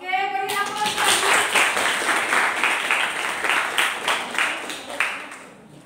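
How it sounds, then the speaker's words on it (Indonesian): Audience applause after a classroom presentation: steady, dense clapping from a group close by, lasting several seconds before fading. "Oke, beri aplaus."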